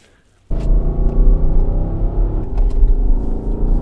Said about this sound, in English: Who wants a side exit exhaust on a four-wheel drive?